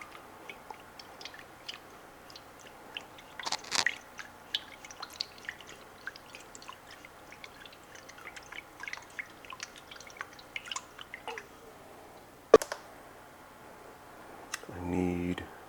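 Sugar stirred into liquid to dissolve it: a spoon scrapes and taps softly and irregularly against the container, faint and close, with a few sharper clinks and a brief voice near the end.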